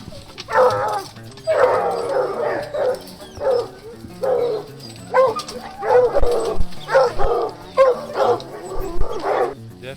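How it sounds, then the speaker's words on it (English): Hunting hounds on bear scent during a spring bear hunt, a pack barking and bawling in repeated excited bursts, some yips and whines mixed in, close and loud. "when they smell it, they'll all blow up barking like crazy"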